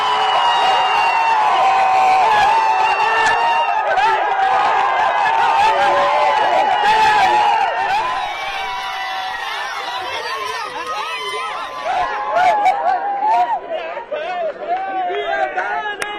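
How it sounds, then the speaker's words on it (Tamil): Cricket fans celebrate India's T20 World Cup win with a dense, loud crowd din of cheering, shouting and chatter that runs throughout, dipping slightly midway before swelling again with excited bursts. "ரசிகர்கள் இந்திய அணி வெற்றி பெற்றவுடன் கைதட்டி ஆரவாரம் செய்து உற்சாகத்தில்"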